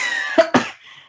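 Two sharp coughs in quick succession from a man in the middle of a coughing fit, close and fairly loud, then a faint trailing breath.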